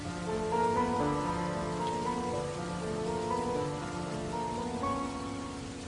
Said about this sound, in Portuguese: Naquela noite, a chuva apertou de novo.